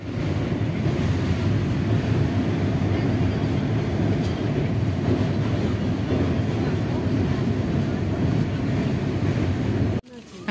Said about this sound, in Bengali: ট্রেন ভীষণভাবে স্লো চলছে।